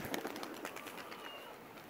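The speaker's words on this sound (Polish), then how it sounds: "to lot tych gołębi, tych górnolotów" Tumbler pigeons fly in the rain, their soft fluttering mixed with a steady hiss of rainfall, faint and somewhat distant throughout, with no talking.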